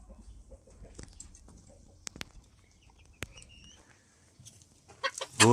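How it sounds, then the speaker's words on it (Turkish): Chickens cluck softly around a young five-month-old İspenç rooster in a backyard coop, scattered quiet clucks and a few sharp knocks, building to a louder burst of squawking at the end. "büyümekte olan 5 aylık ispenç horozumuz yavrumuz"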